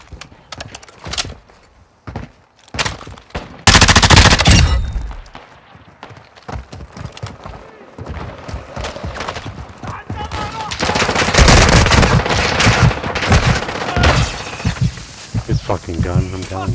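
Gunfire in Call of Duty DMZ gameplay, loud bursts of automatic fire and single shots in quick clusters, close and dominant, with someone talking excitedly between and over the shooting.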